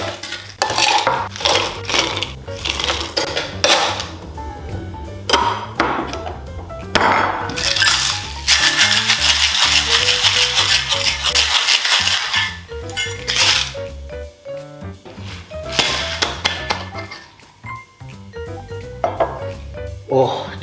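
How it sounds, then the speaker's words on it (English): Cucumber slices and mint muddled in a cocktail shaker for a Southside cocktail: repeated knocks, clinks and grinding scrapes against the shaker in an uneven rhythm, loud and close, with no talking. "you get 2 slices of cucumber and muddle that in the shaker at this point as well"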